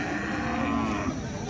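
A Khillar bull at a cattle market lets out one long, loud, sustained moo that fills the whole moment, close and resonant over a busy outdoor background.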